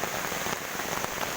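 Heavy rain pounds steadily on a tarp out in a farm field, a dense, loud, continuous hiss and patter with no pauses and no voices.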